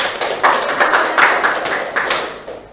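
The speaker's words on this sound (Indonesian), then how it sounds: "Tepuk tangan untuk Dewi" A small group of students clapping in a school classroom in Banten, Indonesia, a fairly close burst of uneven hand claps that swells in a few waves over nearly three seconds, with little or no talking.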